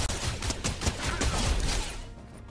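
A blaster fires rapid repeated shots in Fortnite Chapter 3 Season 2 as a dense, loud fusillade of close gunfire lasting about two seconds, then trailing off.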